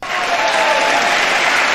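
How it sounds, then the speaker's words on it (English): A short burst of applause, dense and steady clapping from a group that starts abruptly and holds at an even, close loudness throughout. "Give him the clap, Tony"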